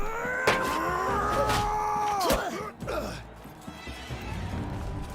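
A horse whinnies in Mount & Blade II Bannerlord, a long, loud neigh with wavering pitch that breaks into a few shorter snorting calls, set against battle noise.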